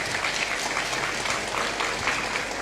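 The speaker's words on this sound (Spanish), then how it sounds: "Si usted puede aplaudir, aplauda." Church congregation applauding together, a dense steady patter of many hands clapping at a sustained level throughout.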